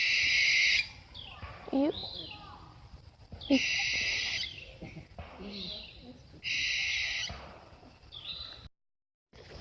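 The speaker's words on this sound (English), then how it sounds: "This is the screech owl." Screech owl calling at close range in a state park, with repeated bursts of shrill, wavering cries separated by short pauses and a person speaking quietly between them.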